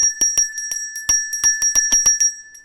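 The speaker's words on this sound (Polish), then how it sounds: "Tutaj mam dzwonek, to jest dzwonek świętego Mikołaja" A Santa Claus hand bell rings in roughly a dozen sharp, bright strikes at an uneven pace, close and fairly loud, each one decaying quickly, with a faint sustained tone holding underneath.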